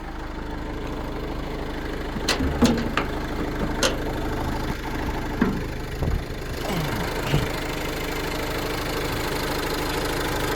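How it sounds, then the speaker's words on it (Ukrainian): A Nissan NV van's engine idles steadily at close range, a low continuous hum with a few brief clicks and knocks rising over it. "Мотор працює як годинник, тут заважень немає"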